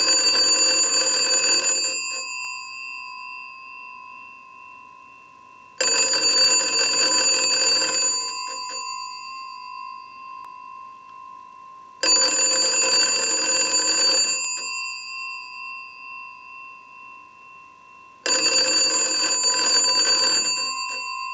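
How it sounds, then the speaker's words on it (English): A repaired, converted Wesco wooden wall telephone made in St. Louis rings its mechanical bell from a test ring cycle in four long bursts with quiet pauses between, loud and close, each ring fading slightly as it continues. "use the analyzer and send a ring cycle like you were getting a call"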